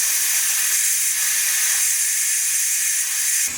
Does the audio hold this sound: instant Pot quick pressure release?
yes